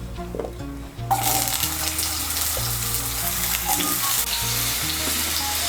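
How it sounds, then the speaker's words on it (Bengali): Potatoes drop into hot white oil in a wok and burst into a loud, close sizzle that continues steadily after a quieter moment, with occasional stirring clinks and a low background hum. "এর মধ্যে আলুগুলো ভেজে নিচ্ছি।"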